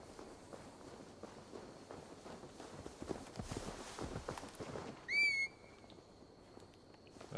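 Horse hooves in Assassin's Creed Valhalla as a horse is ridden to be delivered to Magni: soft, steady clip-clop under quiet game ambience, with a brief whistle near the end.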